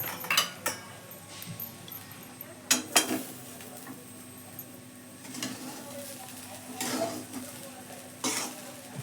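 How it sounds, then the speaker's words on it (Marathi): Sabudana tapioca pearls tipped into a pan and stirred, with faint sizzling and scraping of a spoon against the pan in bursts, a few sharp clinks, and brief background voices. "हे आता टाकायला लागलो साबुदाणा"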